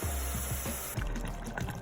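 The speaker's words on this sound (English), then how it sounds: "I'm going to add hot water from the electric kettle and continue to cook it" Hot water poured from an electric kettle into a cooking pot of dry fish gravy, a steady close liquid pour with splashing and bubbling that changes in texture partway through, with no talking.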